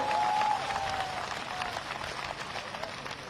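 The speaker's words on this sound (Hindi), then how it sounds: "तालियां बजाकर उनका स्वागत कीजिए" Applause from a crowd at a public rally in Chandwasa, Mandsaur district, Madhya Pradesh, welcoming a political leader. It is steady, moderate and somewhat distant, with a brief tonal whine at the start and scattered crowd noise throughout.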